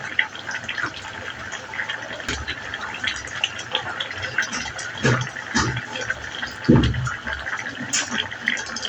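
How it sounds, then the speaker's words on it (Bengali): A shrimp and pumpkin curry with onion stalks is stirred in a pot, with wet sloshing, scraping and soft clunks of the spoon against the pot. A few louder stirs come around the middle and later, over steady low kitchen noise. "এই দেখেন আমার তরকারিটা নেড়ে চেড়ে দিচ্ছি আমি।"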